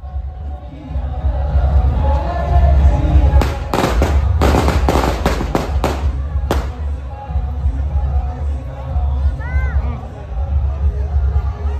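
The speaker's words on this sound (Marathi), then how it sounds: "आता आरती झालेली आहे, फटाक्याची आतषबाजी पण आपण पाहिली" Firecrackers crackle at a temple ceremony after the aarti, a rapid cluster of sharp loud bangs over steady crowd murmur and outdoor noise.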